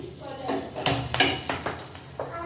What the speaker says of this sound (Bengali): আর এটা নয় কড়াই বসিয়ে দিয়েছি